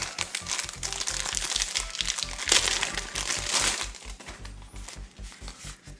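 Plastic packaging around a Zelda wallet crinkling and rustling steadily as it is torn open up close, with a faint low hum underneath.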